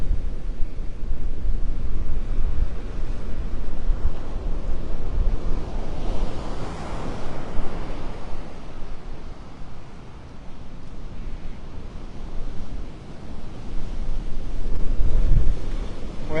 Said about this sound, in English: that wind is just pushing me right up the beach here